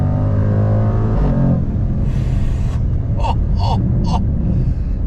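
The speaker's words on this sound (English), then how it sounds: "When it shifts and you hear that burble coming out of the back of the vehicle, that Jaguar roar is just phenomenal." Engine and exhaust of a 2021 Jaguar F-Pace SVR performance SUV, a loud, close, steady low rumble and burble that shifts tone as the gears change, with brief crackles near the end.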